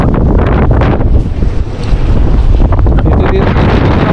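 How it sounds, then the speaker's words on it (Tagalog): Loud, constant wind buffeting the microphone outdoors at sea while fishing, a rough roaring rumble that fills the whole stretch with no speech. "Pasensya na po kayo sa ingay po ng hangin."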